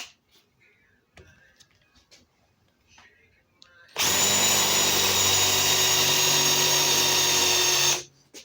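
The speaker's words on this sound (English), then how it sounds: "We're going to do some drilling." A power drill boring into crumbly wood whines loudly and steadily for about four seconds after some quiet shuffling, then cuts off abruptly.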